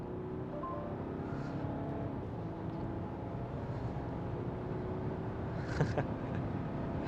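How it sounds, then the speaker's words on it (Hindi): Citroën C5 Aircross SUV in sport mode accelerating toward 120 km/h, heard from inside as a steady, fairly loud engine and road drone that builds evenly with no talk. "एक्चुअली स्पोर्ट मोड में डाल के मैं आपको 120 तक ले जाके दिखाता हूँ गाड़ी"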